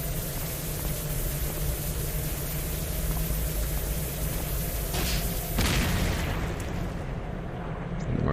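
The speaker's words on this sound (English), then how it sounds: "you hear a huge explosion" A huge explosion booms out in the post-apocalyptic game Cataclysm DDA, a loud broadband rumble with a sharper burst partway through, set against steady dense noise and no speech.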